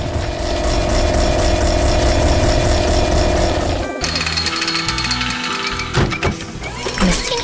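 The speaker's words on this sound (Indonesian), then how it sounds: "Di sini, ada mesin kuning yang sedang bekerja keras di tengah kebun yang luas." A yellow digging machine works in a field in an animated farm scene, giving off a loud, steady, jackhammer-like engine chug that shifts at about four seconds into rougher clanks and knocks.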